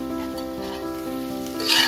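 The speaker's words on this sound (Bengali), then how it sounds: "এই মশলাটাকেও আমি 2-3 মিনিটের মতো একটু তেলে নাড়াচাড়া করে নেব" Ginger, garlic and green chilli paste fries in oil with a close, steady sizzle and light stirring, swelling into a brighter hiss at the very end.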